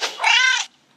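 A cat in the Giant Escape puzzle game, set under a sofa, lets out one close, drawn-out meow. It opens with a short chirp and ends abruptly in silence.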